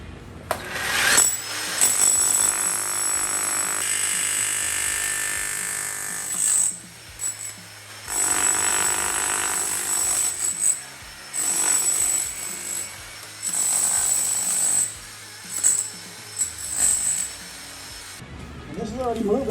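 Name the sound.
chisel hammering cast iron pipe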